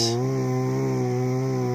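A Chinese-made chainsaw running hard while cutting a 3 ft thick maple tree, a loud, close, sustained buzzing engine drone with a steady pitch under load.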